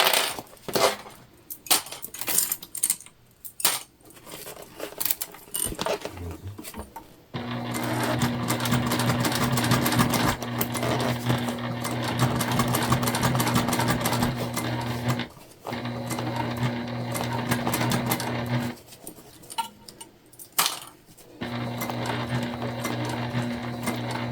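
A sewing machine top-stitches a tote bag, first with scattered clicks and handling noises, then running in long, steady, loud bursts of rapid mechanical whirring with short pauses between them.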